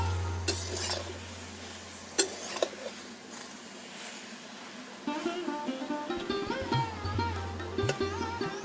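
Taro leaves stirred in a pan in a village-style kitchen, with soft clinks and scrapes of a utensil against the pan over a steady low hum; the stirring grows busier and more rhythmic in the second half.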